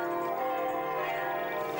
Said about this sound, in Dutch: De kerkklokken hebben ze nog bezig.